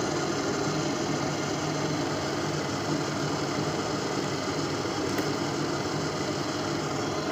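Brother 814 sewing machine running continuously, a loud steady mechanical whir and rattle with no pauses, close to the listener.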